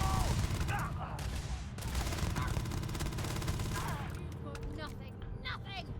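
Gunfire in the video game Starfield, sustained rapid shots and bursts with sharp transients throughout, under a voice talking, with other game voices and effects mixed in.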